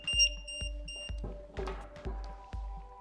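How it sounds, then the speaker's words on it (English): A battery low-voltage alarm beeps: high electronic tones sound at the start, followed by a series of repeated pulses about every half second, each with a low thump, fairly close. "It's going to alert, it's going to continue to beep"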